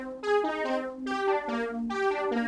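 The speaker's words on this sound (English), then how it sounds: "this arp that sounds like this." Bright synth arpeggio programmed in Ableton Live for a Jersey Club track, with quick repeating note patterns that cycle roughly every second, loud and alone.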